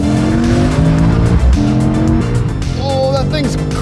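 A BMW M5, an Audi RS7 and a Mercedes-AMG E63 S launching hard in a drag race: loud, close engine roar that climbs through gear changes, with tyre squeal near the end and people talking over it.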